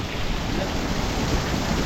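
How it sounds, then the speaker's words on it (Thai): Heavy rain pours down steadily during a night of frog hunting near a cave, a dense, continuous hiss that stays loud and close with no voices. "ฝนตกนี่ฮะ"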